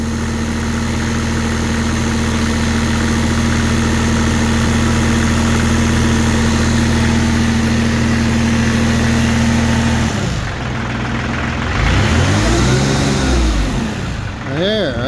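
A diesel engine coughs back to life after its fuel gelled, idling steadily and loudly up close, then taking a few blips of throttle that rise and fall near the end, with someone talking over it.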